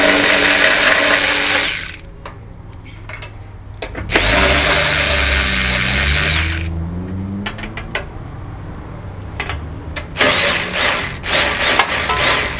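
A power tool whirs in long, loud bursts with short sharp clicks between them while the front grill of a Rolls Royce Silver Shadow is removed, and a low rumble runs through the middle stretch.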